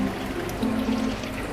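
Water is poured to mix for acclimating Myleus fish, a quiet, close, steady trickling pour lasting the whole brief moment, with no voices.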